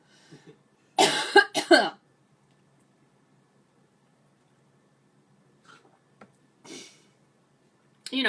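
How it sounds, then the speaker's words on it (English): A close burst of several harsh coughs in quick succession, followed by near silence and a few faint, scattered throat sounds. "Time for a water break because I am coughing."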